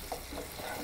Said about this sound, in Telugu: దీన్ని మంచిగా రెడ్గా ఫ్రై చేసుకోవాలి, గోల్డెన్ రంగులో.